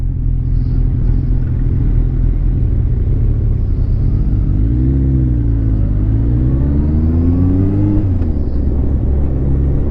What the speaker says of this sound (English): That exhaust of yours, that sounds a hell of a lot better.